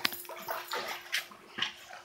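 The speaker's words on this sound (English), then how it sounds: "Both dogs are swimming, having fun." Two dogs swim and splash in water, giving bursts of sloshing and paddling splashes at close range, no voices over them.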